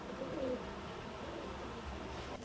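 Pigeons of a black-feathered pagla breed coo softly at close range, a low murmuring call rising near the start and then fading into a steady background hum.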